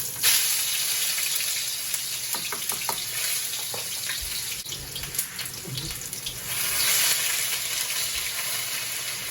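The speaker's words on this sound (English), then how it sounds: "we're going to start out with the garlic, Thai chilies, and onion. Put that straight into the oil." Garlic, Thai chilies and onion hiss and sizzle in hot oil, a steady loud broadband crackle with scattered pops and a brief surge near the end, with no voices.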